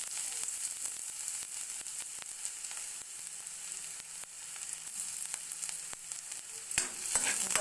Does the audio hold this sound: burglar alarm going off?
no